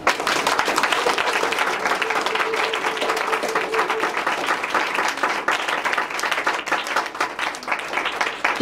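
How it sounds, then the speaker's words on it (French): A church congregation applauding, steady dense clapping from many hands that holds at an even level throughout, close and full, with no pauses. "Est-ce qu'on peut l'acclamer?"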